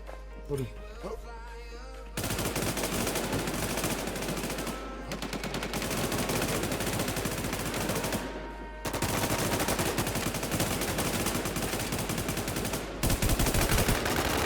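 Dense, rapid automatic and single gunfire from the video game WarZ rattles on loudly in long bursts, separated by short silent gaps.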